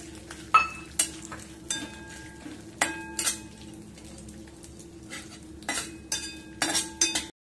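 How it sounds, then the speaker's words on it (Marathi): Almonds roast in ghee with a faint background sizzle, punctuated by irregular metallic clinks and scrapes of a spoon stirring in the pan. "तर यामध्ये बदाम थोडेसे तुपामध्ये भाजून घ्यायचे।"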